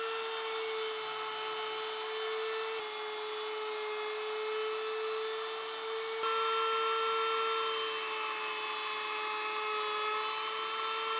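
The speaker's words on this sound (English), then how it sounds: "that recess that I just created at the mortiser" A mortiser cuts a recess into the wooden body of a Krenov-style hand plane with an adjustable mouth, giving a steady, close motor whine with a sustained grinding tone that holds evenly throughout, no voices present.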